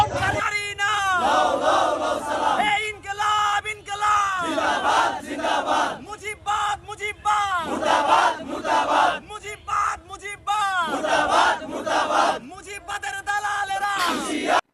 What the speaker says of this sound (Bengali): কারিনা বোন লও লও লও সালাম, মুজিববাদ মুজিববাদ, মুর্দাবাদ মুর্দাবাদ স্লোগান